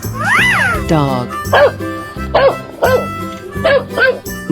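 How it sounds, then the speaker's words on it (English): A cartoon dog barks a few times in a 3D animal video game, rhythmic yelps repeated over bouncy background music, loud and close. "Dog."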